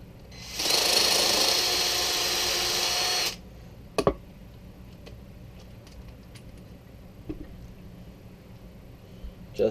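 A PMA Micro Adjust case trimmer trims a brass case in a loud whirring burst of about three seconds, followed by quieter clicks and small handling knocks.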